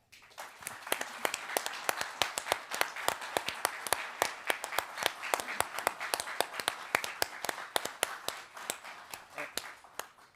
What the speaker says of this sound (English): Mr. Duckers and I wish to take a moment before we start to simply provide him with our round of applause and appreciation.